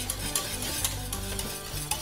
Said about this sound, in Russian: Все быстро и размешиваю.